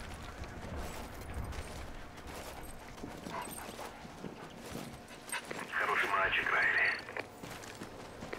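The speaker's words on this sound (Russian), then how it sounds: "Чего хочет этот пес?" Riley the dog barks in Call of Duty: Ghosts, a few sharp barks among footsteps and game ambience, with a loud burst of higher yelping in the middle and background voices.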